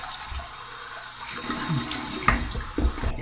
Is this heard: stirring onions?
no